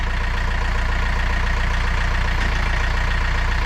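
Tractor engine running while scooping a load out of a pickup bed at a firewood yard, a loud steady low diesel thrum with fast even pulses, close and continuous without talk.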